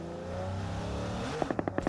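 A car's engine drones and revs in a battle royale video game, then rapid sharp bursts cut in near the end, no voices.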